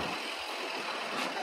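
Heavy Mumbai road traffic with trucks and buses makes a continuous, dense rumble and hiss of engines, with a brief brighter burst near the end.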